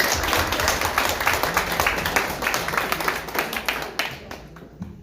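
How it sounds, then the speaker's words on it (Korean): Audience applause for a guest introduced at a traditional culture and arts committee gathering: dense, sustained clapping from a crowd, steady and close, thinning out toward the end. "우리 큰 박수 한번 칠까요 여러분요?"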